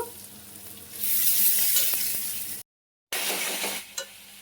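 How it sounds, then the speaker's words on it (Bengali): Onions frying in hot oil for an Indian curry make a loud, steady sizzle close to the pan, cut by a brief silent break before the hissing resumes. "পেঁয়াজটাকে ভাজা ভাজা করে নেব।"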